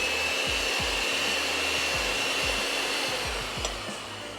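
Electric hand mixer beating pancake batter, a steady motor whine with regular low knocks of the beaters against the bowl, close and continuous with no talk.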